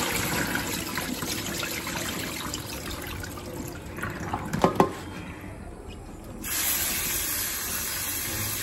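Tap water runs in a steady hiss as ravas fish and prawns are rinsed clean at a home kitchen sink, with a brief clatter midway and the flow dropping off, then returning.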